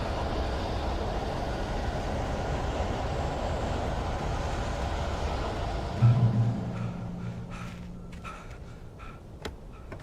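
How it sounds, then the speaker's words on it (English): A train rumbling past in the video game Alan Wake Remastered, a broad steady roar that fades out, followed by a low horn-like tone and scattered clanks. "Supposedly there's a train."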